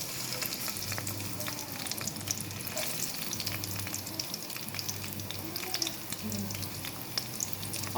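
Onions fry in a pan for a chapathi potato curry. A close, steady sizzle carries light stirring scrapes throughout, with no talking.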